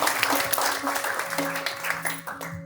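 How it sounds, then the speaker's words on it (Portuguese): Church congregation applauding during a Sunday celebration service, a short burst of steady clapping heard under a sustained tone, with voices mixed in. "Vamos aplaudir o Senhor pela vida da irmã."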